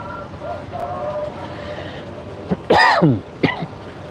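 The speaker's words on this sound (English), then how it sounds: "I do apologize for coughing into the mic." A couple of harsh, close coughs burst out over a quiet hum, the first loud and rasping, the second shorter.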